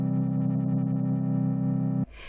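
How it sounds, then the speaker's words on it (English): Moog Matriarch synthesizer holds a steady, buzzy tone whose timbre wobbles smoothly under sine-wave modulation, loud and alone, cutting off abruptly near the end. "the waveform that you're hearing that is modulating the signal at the moment is a sine wave"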